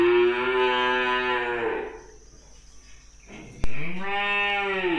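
Black 3B crossbred cattle in Tra Vinh give two drawn-out, close moos. The first fades into a quieter gap, and after a sharp click the second moo starts.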